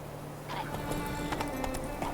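A horse in The Witcher 3 game clip-clops at a run across open ground on Skellige, with quick hoofbeats and a brief whinny heard under game ambience.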